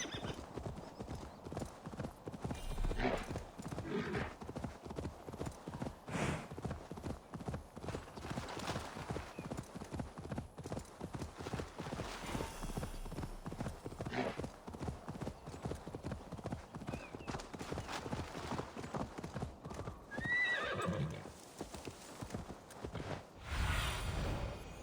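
A steady run of horse hoofbeats clip-clops throughout in the Viking-era game Assassin's Creed Valhalla, close and rhythmic, with an occasional neigh and faint game sounds layered over the trotting.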